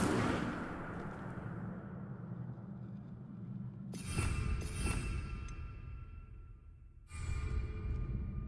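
Incendio fire spell cast in the video game Hogwarts Legacy: a loud crackling whoosh fades across several seconds, then sharp bursts of flame strike at about four and seven seconds with bright, crackling tails.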